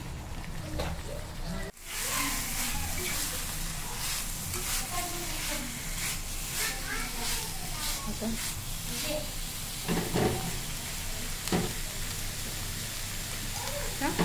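Steady sizzling and bubbling from a pan of stuffed bitter gourd curry coming to a boil on the stove, continuous crackle throughout with occasional louder pops and faint background voices.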